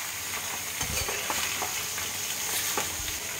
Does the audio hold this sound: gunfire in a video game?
no